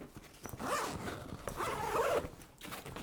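A zipper on a compartment of an Eagle Creek Gear Warrior wheeled duffel bag is pulled in several long, close, scratchy strokes with brief pauses between them.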